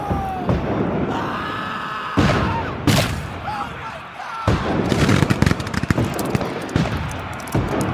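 Battle sounds of .58 caliber Minié rifle fire and cannon: dense, overlapping gunshot cracks and heavy booms roll on continuously, with distant shouting and screaming mixed throughout.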